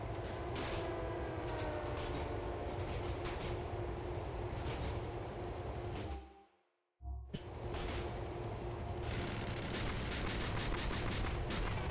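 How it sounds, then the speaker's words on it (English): A metro train ride in Grand Theft Auto: The Ballad of Gay Tony, a loud continuous rumble and rattle of wheels on track with clattering bursts, briefly cutting to near silence midway before the roaring ride resumes. "I'm just riding the motherfucking metro."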